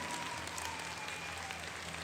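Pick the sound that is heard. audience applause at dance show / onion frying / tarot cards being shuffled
audience applause at dance show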